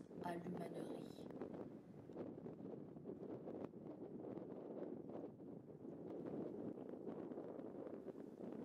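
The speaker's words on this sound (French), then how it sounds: "Le vent est de plus en plus fort." Strong wind in Mongolia buffets and roars against the microphone in uneven gusts, with a rustling rush running through the whole stretch.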